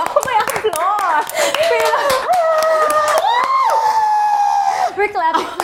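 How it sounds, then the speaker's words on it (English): A studio audience claps and whoops on a talk show, dense clapping running under loud, excited speech and laughter from the hosts throughout. "We're clapping."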